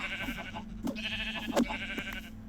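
Sheep in Minecraft bleating in short bursts, several quick wavering calls close up and fairly loud, with no talk over them.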